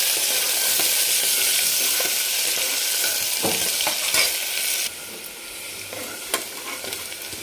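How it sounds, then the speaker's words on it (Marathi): A single onion sizzles in hot oil for a spicy mutton curry, with a loud, steady hiss and stirring scrapes that drop noticeably quieter partway through. "याच्यामध्ये एक कांदा घेतलेला आहे तो टाकून घेऊ आपण आणि छान सोनेरी कलरवर आपण याला परतून घेणार आहोत"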